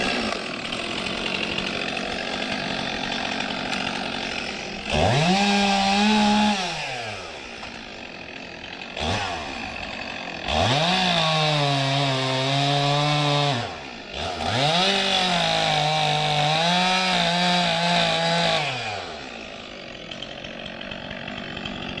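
A chainsaw cuts through a South Carolina pine log, the engine idling between three long loud cuts as it bogs and revs, close and alone with no talk.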